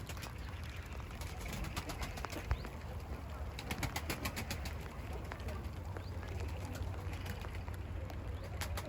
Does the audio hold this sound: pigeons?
yes